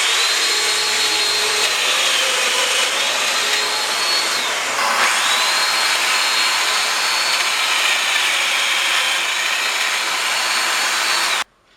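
Festool Domino joiner plunging a mortise into wood panel stock for a bed box, a steady loud high-pitched motor whine running throughout with a brief dip midway, then cutting off abruptly at the end.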